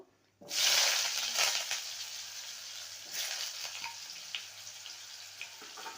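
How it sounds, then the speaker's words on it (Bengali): Diced potatoes go into hot oil already spiced with tempering. A sharp sizzle hisses up at once, then settles into steady frying with a few stirring scrapes, close and fairly loud, without talk. "আলুটাকে ভালো করে ভেজে নেব"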